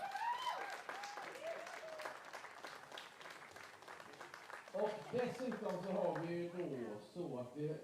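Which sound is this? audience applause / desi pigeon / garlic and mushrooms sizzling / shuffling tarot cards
audience applause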